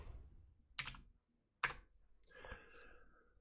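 A computer keyboard clicks with a few separate, distinct keystrokes spaced out, then a short cluster of quieter taps, all faint and close, with no voices.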